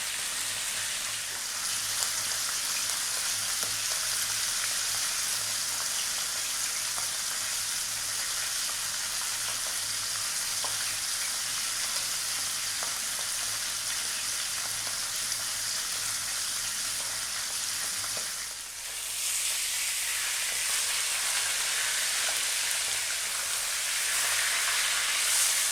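Vegetables sauté in a frying pan for sweet and sour mackerel, giving a steady, close, broadband sizzle that runs the whole time with a brief dip near the end, and no talking.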